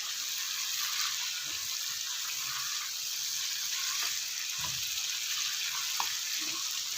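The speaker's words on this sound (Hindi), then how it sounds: "हाई फ्लेम पे ही इसकी भुनाई करेंगे।" Mutton karahi roasting on high flame, with a dense continuous sizzle and hiss of frying meat and occasional faint knocks of stirring.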